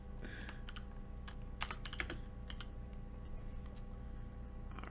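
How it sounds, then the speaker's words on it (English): Keys clacking on a computer keyboard in quick irregular bursts, light and fairly close, with a faint steady hum in the background. "I was typing in your name for some reason."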